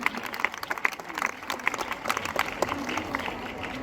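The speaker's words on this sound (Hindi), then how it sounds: "जोरदार तालियों से" An audience claps enthusiastically at a religious discourse gathering, dense rapid applause that holds steady for several seconds while a speaker's voice carries over it.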